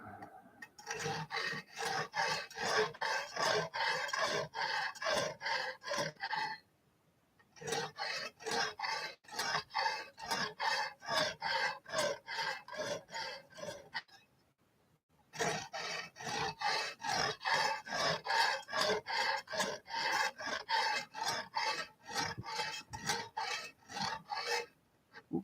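Knife blade stroked repeatedly over a Lansky sharpening stone system in a garage, a rapid rhythmic rasping close up, in three long runs separated by short pauses.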